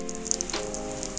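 Onion, green chili and curry leaves frying in hot oil for a mutton liver roast, giving a soft continuous sizzle with faint crackling pops and no voices.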